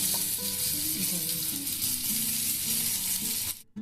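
Spice paste fries in hot oil with capsicum and onion, a steady loud sizzle and crackle running throughout with faint stirring, then cutting off abruptly near the end.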